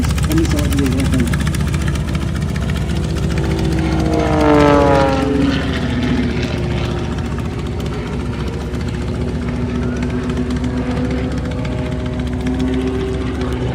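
Jet-powered aircraft with two side-mounted engines flying at an airshow, a loud steady engine roar with a rising and falling pitch sweep as it passes, with talk over it.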